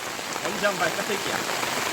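Steady rain falls on a surface in a village in Botad during unseasonal rain, a continuous soft patter that stays even throughout, with faint voices in the background.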